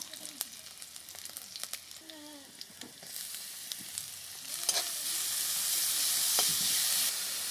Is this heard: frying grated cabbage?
yes